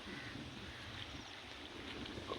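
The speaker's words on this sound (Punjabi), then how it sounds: "ਪਾਣੀ ਦੀ ਇੰਨੀ ਆਵਾਜ਼ ਆ" Floodwater of the Beas river in spate, a steady broadband rush and roar that fills the whole stretch with no pauses, heard close and loud with wind buffeting the microphone.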